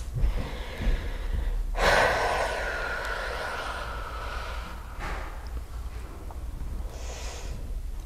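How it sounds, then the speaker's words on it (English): A person takes a couple of slow, deep breaths, a strong rushing inhale and exhale followed by softer ones, close and alone against a quiet background hum. "just taking a couple deep breaths"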